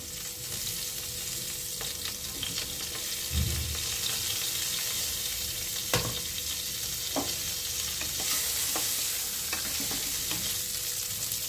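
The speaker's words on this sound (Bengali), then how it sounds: "ফুলকপিতে অল্প পরিমাণ হলুদ আর নুন দিয়ে নিচ্ছি, দিয়ে এবার একটু ভেজে নেব।" Cauliflower pieces seasoned with turmeric and salt fry steadily in a pan, a continuous close sizzle broken by a few scraping stirs and one brief louder clatter, with no voices.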